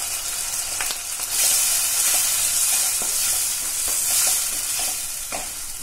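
Beetroot, tomato and salt sautéing in a pan: a steady, close sizzle with repeated scraping strokes from stirring, swelling slightly at moments, no talking.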